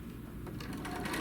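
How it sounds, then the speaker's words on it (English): A sewing machine runs steadily, stitching quilt fabric pieces one after another, with a continuous even whirr that sits close and fairly quiet. "So we'll come in and we can just sew"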